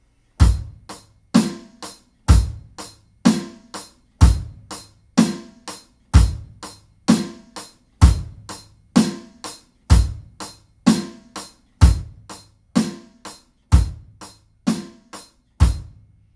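A steady, slow drum set groove with hi-hat, snare and bass drum repeats evenly for about sixteen seconds, each bar marked by strong low kicks and crisp snare backbeats under continuous hi-hat ticks, played alone with no talking.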